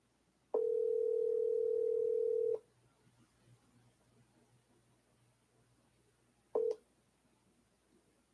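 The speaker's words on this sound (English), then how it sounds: "I'm going to try calling him one more time" A telephone line sounds one loud, steady tone for about two seconds, then a quiet hiss, then a brief second tone, with no talk.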